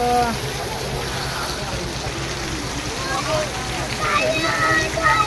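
Steady rain falls outdoors in a village setting, a constant broadband patter and hiss running beneath people talking nearby.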